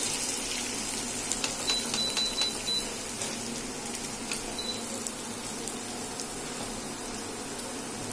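Boiled chowmein, cooked alongside fried egg, sizzles steadily in a hot pan while being stirred, giving a continuous close frying hiss with light scraping clicks and no talking.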